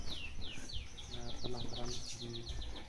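Many birds chirp and whistle in quick repeated calls at a bird breeding centre, with perkutut doves among them, the sound steady and close with a faint voice in the background.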